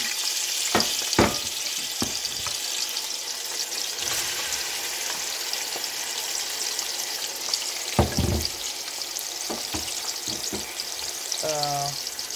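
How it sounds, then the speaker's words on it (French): Condiments hit hot oil in a pot and fry with a steady nearby sizzle, broken by a few utensil knocks and clatters. A short voice speaks near the end. "dans une marmite, nous allons mettre de l'huile à chauffer. Nous allons verser nos condiments, comme ceci."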